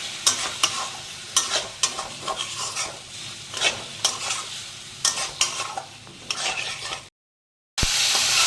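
Potatoes and mushrooms stir-fried in a thick masala, loud rhythmic scraping strokes of a spatula over a steady sizzle, repeated every half second or so, then a short break before the sizzling resumes.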